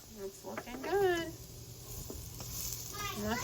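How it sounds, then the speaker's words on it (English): Turnip french fries sizzle in a frying pan, a steady close hiss of frying oil underneath intermittent high-pitched chirpy vocal sounds. "They're sizzling and smelling good and getting golden brown just like I like."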